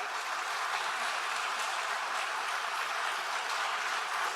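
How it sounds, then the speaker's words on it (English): An audience at an awards ceremony applauds steadily, a dense, even wash of clapping sustained throughout at moderate loudness with no talking. "I would just love for you to give him a welcome applause"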